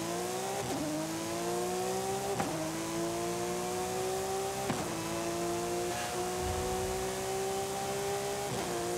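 A car engine screams at full throttle in Forza Horizon 5, climbing steadily through each gear. Brief dips mark the shifts, repeating every couple of seconds with no talking.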